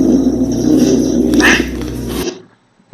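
A cat growling and lunging in an attack, loud and close: a continuous harsh low snarl with a sharper yowl near the middle, then a sudden cutoff into silence.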